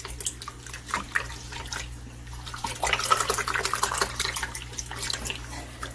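Kitchen tap water running while raw eggs are washed for homemade dog food, a steady splashing rush with irregular spatters and handling noises that grow busier partway through.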